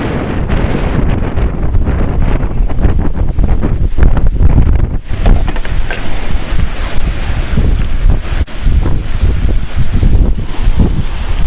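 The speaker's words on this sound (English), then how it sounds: "Let me try to get out of the wind here." Strong wind buffets the microphone out on open prairie ranch land near a low stand of trees, a loud continuous roar with gusty surges and no voices.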